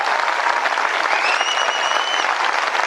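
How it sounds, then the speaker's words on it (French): A comedy club audience claps loudly and steadily for a short stretch, a dense wash of applause from the whole room with a few faint whistles above it. "faites-moi un tonnerre d'applaudissements pour Natacha, s'il vous plaît."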